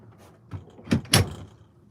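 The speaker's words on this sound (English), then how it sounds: "I'm getting self-conscious having my door open and doing a live, so I'm gonna close that." A truck camper door is pulled shut, giving a couple of close, sharp knocks and a latch thud after a brief soft rustle, with no talking.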